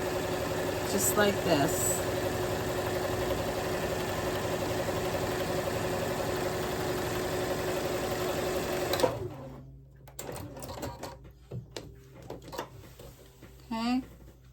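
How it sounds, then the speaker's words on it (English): A sewing machine with a walking foot runs steadily and continuously while stitching a quilted Valentine's Day runner, then stops, followed by fabric shuffling and a brief spoken remark. "I am just going to sew all the way down,"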